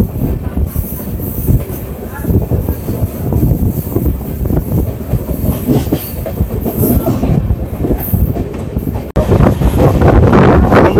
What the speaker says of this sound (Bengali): আমাদের ট্রেন এই মুহূর্তে ক্রস করছে কাশিমবাজার